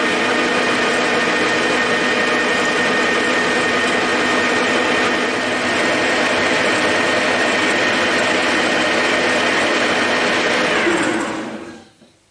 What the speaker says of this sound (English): I'm turning down this little bolt here to make the lead screw.